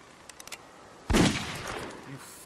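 A single loud gunshot in The Walking Dead video game, a sharp crack followed by a short decaying echo, preceded by faint ticks.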